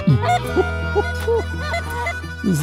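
Geese honking in chirpy bursts over a low steady rumble, the calls repeating irregularly at close to middle distance during a goose hunt, with no talk over them.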